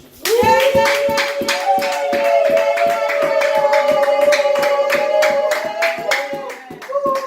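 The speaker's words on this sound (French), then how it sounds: "Les acclamations pour le Seigneur Jésus-Christ." Worshippers at a Sunday church service clap in a steady rhythm, loud and close, while a voice sings or calls out a sustained tone above the clapping almost throughout.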